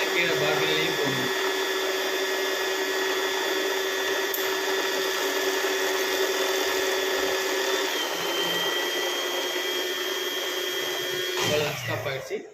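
An Usha Allure DLX sewing machine winding a bobbin, giving a loud, steady high-pitched motor whir that runs unbroken before slowing and cutting off near the end.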